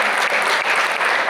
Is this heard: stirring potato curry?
no